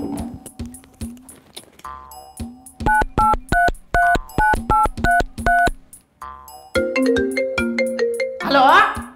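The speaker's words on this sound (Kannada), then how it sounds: "ತಡಿ ಅವ್ರಿಗೆ ಫೋನ್ ಹಚ್ತೇನೆ." A phone call is placed with a series of short beeping keypad tones in bursts, followed by a melodic ringtone pattern rising at the end. The sounds are close and clear, with no talking over them.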